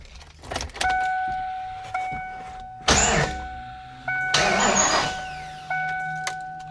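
A flooded supercharged 347 stroker Mustang GT engine cranks over in two distinct bursts of starter grinding, each a second or so long, over a steady electrical whine and chime-like tones, without catching and running.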